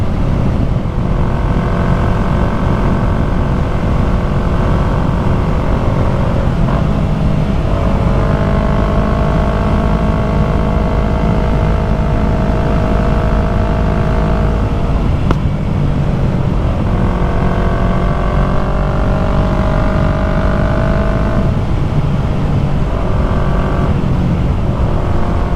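A Yamaha MT-03 motorcycle fitted with a new exhaust rides along steadily, its engine note loud and continuous, with audible rises and drops in pitch as it shifts up through the gears.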